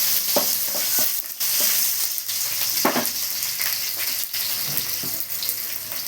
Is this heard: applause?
no